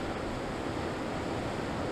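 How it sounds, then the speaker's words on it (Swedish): A mountain waterfall in Jämtland, Sweden, gives off a dense, loud and constant broadband roar of rushing water that fills the whole moment evenly, with no voices. "Här är då det sista vattenfallet innan jag vänder om"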